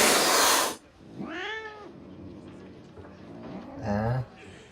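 Cats in the film The Book of Eli give two drawn-out, wavering yowls, close and loud, and they follow a burst of harsh hissing noise at the start. Quieter rustling fills the gap between the yowls.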